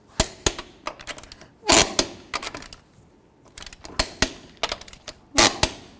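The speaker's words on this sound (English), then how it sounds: "Let's torque these lug nuts to 140 foot-pounds." A torque wrench tightens lug nuts on a 1999-2007 Chevy Silverado truck to 140 foot-pounds, giving sharp, close mechanical clicks in short repeated bursts separated by pauses.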